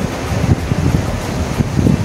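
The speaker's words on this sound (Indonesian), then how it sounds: "Enaknya di sisi pantai itu banyak angin." Wind rushes steadily across the microphone at a seaside beach, a loud continuous buffeting roar with low gusting thumps and no voices.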